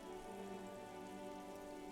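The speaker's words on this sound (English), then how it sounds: "rain dripping off Etonite-covered roofs" In a video game, rain drips off Etonite-covered roofs on an urban coastline as a steady, soft patter under a faint, sustained musical drone.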